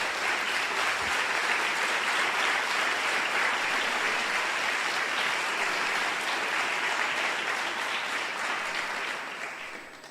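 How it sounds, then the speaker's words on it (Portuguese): A church congregation applauds during a morning service, with thick, steady clapping from many hands at full volume that fades only in the final second. "aplauda Jesus com muita alegria nesta manhã"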